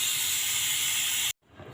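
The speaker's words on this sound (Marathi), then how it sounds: "आता कुकरच्या आपण 2 शिट्ट्या काढून घेऊ" Pressure cooker whistle releasing steam while carrots cook for halwa: a loud, sustained hissing steam jet that cuts off abruptly, followed by a quieter low rumble of the cooker on the stove.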